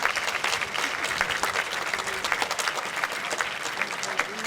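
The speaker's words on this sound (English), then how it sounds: "I would now ask that our graduating class please applaud all of these efforts that made" Sustained applause from a middle school graduating class at a 2012 commencement ceremony, a dense steady patter of many hands clapping continuously throughout with no pauses.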